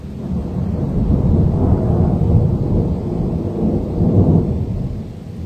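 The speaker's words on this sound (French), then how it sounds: "Vraiment juste là les éclairs." Loud, close thunder from a nearby lightning storm rolls and rumbles steadily, a deep sustained roar with a second swell near the end and no voices.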